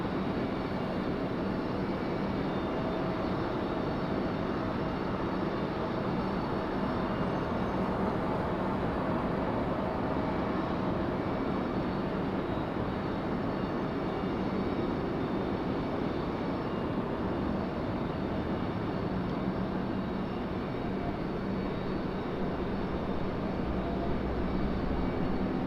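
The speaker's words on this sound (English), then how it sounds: "Butter landing for United." A United Airlines airliner lands at Raleigh-Durham airport, a steady broad roar of jet engines and rushing air that holds evenly throughout, heard from a distance with no voices.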